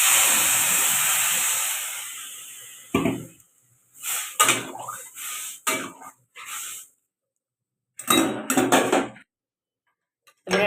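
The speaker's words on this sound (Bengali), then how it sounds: "মশলাটা আমার লাড়া হয়ে গেছে, তাইতে আমি জলটা দিয়ে দেবো।" Water poured into a pan of fried spices for a potato curry sets off a loud, close hiss of steam and sizzling that fades over a couple of seconds, followed by scattered clinks and knocks of utensils against cookware.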